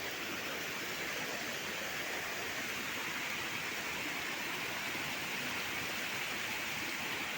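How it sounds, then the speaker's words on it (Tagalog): A river rushes steadily near a retaining wall construction site, a constant, even broadband flow of water at moderate distance with no speech. "Ayan yung ilog mga boss"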